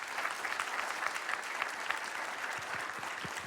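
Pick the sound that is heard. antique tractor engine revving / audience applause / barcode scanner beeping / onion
audience applause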